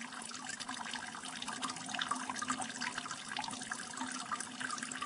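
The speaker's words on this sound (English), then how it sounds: "You can hear this water running." Water runs steadily from a stream in a lecture demonstration of a battery made from cans and water, producing a soft, continuous splashing hiss at low volume with no talking.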